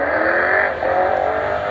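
A TVR T350C sports car with glass fibre composite bodywork driving at the Kop Hill Climb, a loud engine drone close by with a slight shift in pitch partway through, steady throughout.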